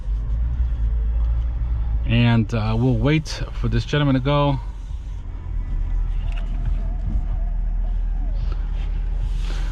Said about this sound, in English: you can definitely hear that diesel engine